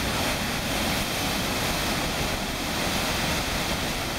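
Floodwater from the remnants of Tropical Storm Irene pours over the North Hartland Dam, a loud, unbroken roar of rushing water that fills the whole clip with steady broadband noise.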